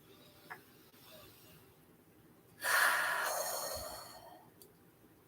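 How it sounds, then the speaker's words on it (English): A single audible exhale, a soft breathy rush lasting over a second and slowly fading, in an otherwise quiet space. "you can breathe out your mouth or your nose"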